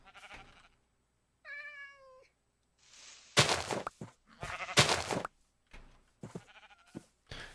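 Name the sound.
cat meowing, from video game Minecraft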